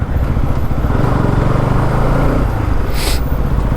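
Motorcycles travel in slow, congested two-way traffic on a narrow, patchy mountain road to Poombarai near Kodaikanal. Their engines drone loudly and continuously close by, with a brief hiss partway through.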